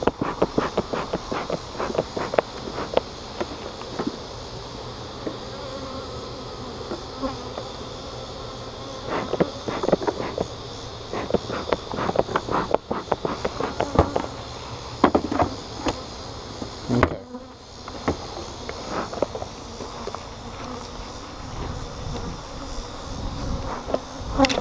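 Honey bees buzz densely and continuously around an open training hive during an inspection, close by, with frequent knocks and clicks from frames and equipment being handled.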